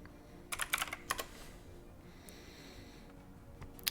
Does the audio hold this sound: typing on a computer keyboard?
yes